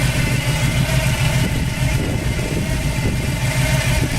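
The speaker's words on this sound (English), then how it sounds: "Good running 350 V8 engine" A 350 V8 idling in a 1972 Chevy Nova fitted with MSD ignition, a loud, close, steady low rumble with an even throb and no change in revs.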